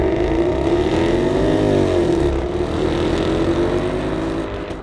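A David Brown Speedback Silverstone Edition, a luxury grand tourer with about 600 horsepower, drives hard under acceleration. Its engine holds a loud, steady, close roar that swells as the revs climb, then settles briefly before building again.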